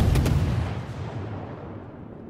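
Naval artillery fires in World of Warships, a Tier 7 Kiev destroyer battle, with a heavy close blast and a pair of sharp cracks up front, then a long rumbling decay that fades out.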